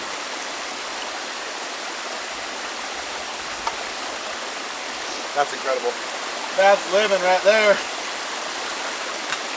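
Spring water on a tiny island runs in a steady, close stream that fills the whole clip, with a person talking excitedly over it near the end.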